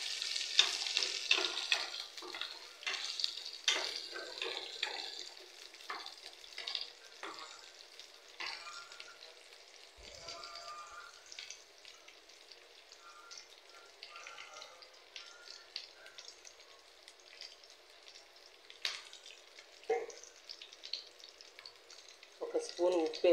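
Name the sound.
onions frying in a pan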